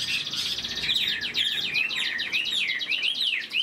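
Chinese hwamei songbird, a moulting bird with a large body, singing a bright, high, fast-warbling phrase that runs continuously and close.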